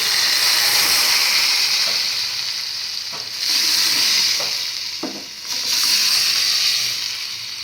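Hot tempering poured into a pot of tangy dal (pappu charu), loud close sizzling that surges several times in waves and then subsides between pours, with no talk.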